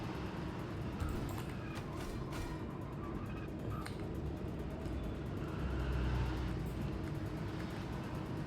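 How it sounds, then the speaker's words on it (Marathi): A car engine drones steadily through a driving video game, a continuous mid-level motor hum with a slight swell in revving near the end, no speech over it. "पहिला गाडी चांगली घेऊन जाते वाजराव"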